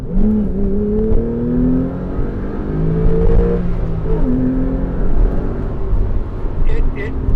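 A Porsche 911 Carrera T accelerates from inside the cabin, its engine note climbing through rising sweeps and gear changes, loud and close, with people talking over it.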